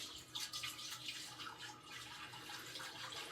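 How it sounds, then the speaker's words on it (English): Two gallons of milk poured into a stainless steel stock pot for farmhouse cheddar, a steady, faint liquid gush and splash lasting a few seconds with no voices. "pour it in your stainless steel stock pot"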